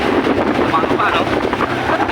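Strong wind buffets a phone microphone while riding a motorcycle, in a loud, continuous rumble and roar.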